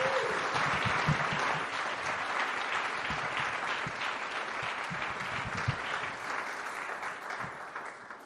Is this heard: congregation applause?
yes